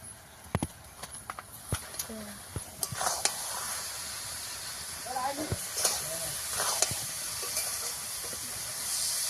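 Grated coconut cooking in melted sugar is stirred in a pan, with a steady soft hiss and repeated sharp scraping taps of the spoon against the metal at irregular intervals.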